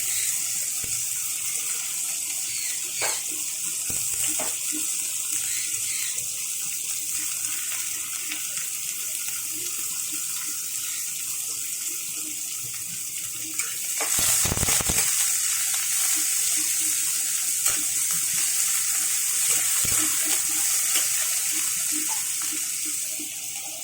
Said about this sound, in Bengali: এখন এখানে দিয়ে দিচ্ছি কেটে রাখা পেঁয়াজ